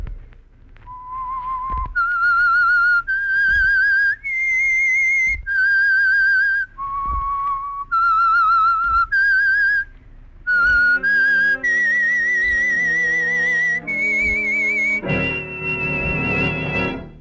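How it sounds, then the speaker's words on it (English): A lone whistler performs the eerie signal tune of an old-time mystery radio drama, a clear, loud melody of sustained pure notes rising and falling, joined near the end by orchestral accompaniment. "That whistle is your signal for the Signal Oil Program, The Whistler."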